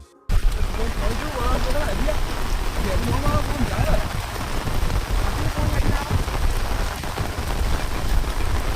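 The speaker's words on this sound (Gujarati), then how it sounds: "મિત્રો જોવા ખાલી વરસાદ તો ફૂલ પડે" Heavy monsoon rain pours down in a dense, continuous roar from start to finish, steady and loud, with faint voices occasionally audible beneath the downpour.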